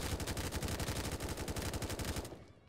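Rapid automatic AK rifle fire in a knock-off Cold War Zombies shooter game, a loud continuous stream of shots for over two seconds that cuts off abruptly near the end.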